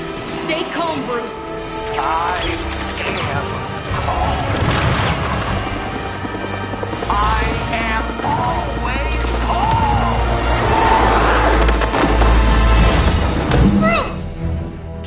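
Missile explosions and gunfire from Hydra gunships in the game Marvel's Midnight Suns, heavy booms and crashes rolling continuously beneath voices talking throughout.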